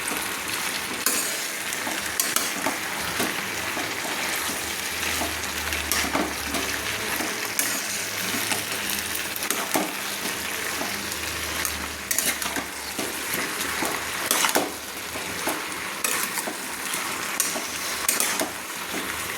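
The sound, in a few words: stirring fish head with Malabar spinach and pumpkin in pan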